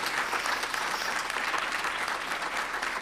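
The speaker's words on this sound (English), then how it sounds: "Please give him another round of applause." Sustained applause from a conference audience after a spiritual performance at the Sivananda gathering, a steady dense wash of many hands clapping without pause.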